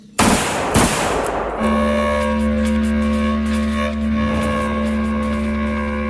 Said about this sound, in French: C'est là que des coups de feu éclatent.